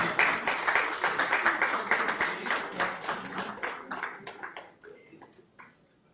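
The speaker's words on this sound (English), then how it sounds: "Huge round of applause from the audience" Audience applause after a talk at a patient safety curriculum session, dense clapping that thins into scattered individual claps and fades out over about six seconds.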